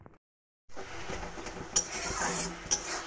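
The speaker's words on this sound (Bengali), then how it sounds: "এখন কষানোর পালা" A spoon scrapes and clinks in a pan of tomato masala being stirred and sautéed, close and moderately quiet, with a soft sizzle underneath after a brief silent start.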